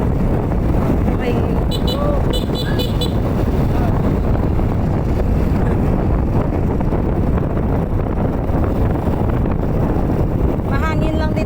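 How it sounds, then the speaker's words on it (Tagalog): Loud, steady wind buffets the microphone during a motorcycle ride, a continuous roar with the engine and traffic underneath, and voices mixed in. "Mahangin lang dito sa atin pag nagmumoto tayo"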